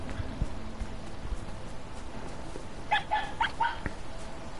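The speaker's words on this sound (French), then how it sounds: "T'as notre copain le renard là, qui aboie." A fox in the video game Rime gives a few short, high yipping barks near the end. They sit over steady ambient game noise and are moderately faint.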